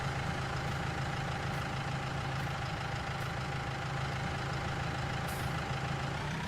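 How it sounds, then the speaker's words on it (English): A tractor engine idles in the farming video game Fairview Simulations, a steady low, rumbling drone that holds even and unbroken throughout. "I'll jump in the tractor."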